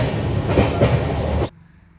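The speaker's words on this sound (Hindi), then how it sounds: "लोनावला से आगे बढ़ने पर दर्शन एक्सप्रेस ने एक बार फिर रफ्तार पकड़ी।" An Indian Darshan Express train runs at speed past Lonavala, a loud, steady rumble of wheels and carriages that cuts off abruptly near the end.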